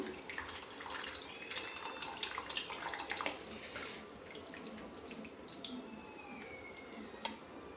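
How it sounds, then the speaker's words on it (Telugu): Tamarind juice pours into a pan of fish curry in a faint, continuous watery trickle and splash, close by, with no talking. "ఇప్పుడైతే ఇందులో అయితే చింతపండు రసం వేసుకుందాం"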